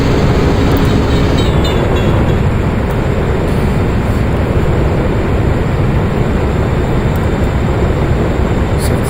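Union Pacific 3985 steam locomotive descending a grade in the Open Rails simulator, a loud continuous rumble of rolling train and steam with dense, unbroken noise throughout.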